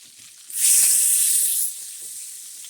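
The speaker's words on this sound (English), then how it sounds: "1/3 of stick of butter. You got to melt it down." A third of a stick of butter melting in a hot pan for blackened shrimp gives off a loud, bright hiss that surges up suddenly, holds for about a second, then settles into a quieter steady sizzle.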